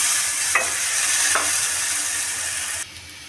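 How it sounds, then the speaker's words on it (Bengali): Loud, dense sizzling of spices frying in hot oil with onion in a wok, close up, with a couple of brief stirring scrapes before the hiss drops off abruptly. "মশলা কষানো হয়েছে"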